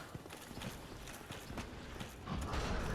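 Pig enemies in Dark Souls Remastered trot with quick, soft, clattering hoof steps, a faint and steady patter over low game ambience.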